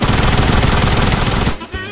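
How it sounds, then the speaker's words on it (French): Rapid automatic gunfire in Fortnite rattles continuously and loud for about a second and a half, then cuts off abruptly. "Arrête de tirer comme un con, Fernand."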